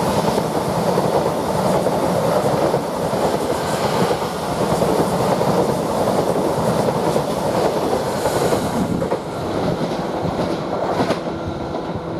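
A Norwich to London Liverpool Street train rushes through Shenfield station, a loud, steady, close roar of wheels and rail rumble with faint clatter, easing slightly near the end, with no voices.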